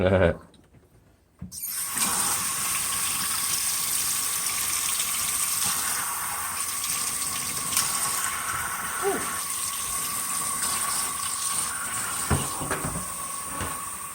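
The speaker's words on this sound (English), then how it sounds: "Going to fill it up again with the hottest water possible." Hot tap water gushes steadily into the tank of a Bissell ProHeat 2X Revolution carpet cleaner with a constant hissing rush, after a brief clunk at the start, continuing unbroken and close by.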